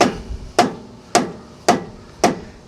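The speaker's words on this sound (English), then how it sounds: "take our trusty 3-pound hammer from Harbor Freight" A 3-pound Harbor Freight hammer strikes a Weigh Safe hitch bar four times in an even rhythm. Each blow is a sharp, close metallic whack that rings briefly and decays.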